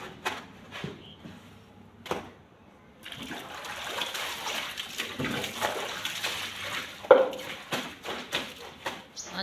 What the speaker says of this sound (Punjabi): ਨੈਚੁਰਲ ਜਿਹੜੀ ਕੱਪੜੇ ਧੋਣ ਦੀ ਆਵਾਜ਼ ਆ ਉਹ ਤੁਸੀਂ ਸੁਣੋ।